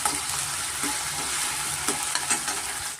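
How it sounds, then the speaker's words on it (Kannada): Potatoes frying until crisp in a pan for a vegetable avalakki lunch-box dish, a steady close sizzle with a few stirring scrapes, no voices. "ಸ್ವಲ್ಪ ಚೆನ್ನಾಗಿ ಕ್ರಿಸ್ಪಿಯಾಗಿ ನಾವು ಆಲೂಗಡ್ಡೆನ ಫ್ರೈ ಮಾಡ್ಕೊಬೇಕಾಗುತ್ತೆ"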